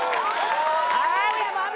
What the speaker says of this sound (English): All right, round of applause for Suncoast.